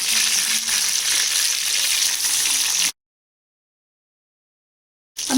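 Raw minced-meat shami kebab frying in a pan as it is flipped, a steady crackling sizzle that cuts out abruptly into silence before resuming briefly.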